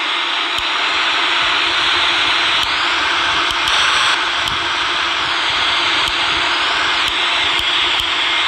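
A Boeing 777-300ER's jet engines spool up during startup in the RFS flight simulator, a steady, loud whine and roar with faint radio clicks over it.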